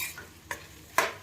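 Grape chutney in a pan on medium heat is stirred in a couple of quick scraping strokes over a faint low bubble, close and brief with no talk.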